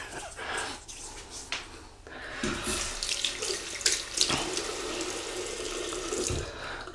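A tap runs water onto a shaving brush at a bathroom sink, an uneven splashing and trickling that swells and dips as the brush moves through the stream, close and fairly quiet.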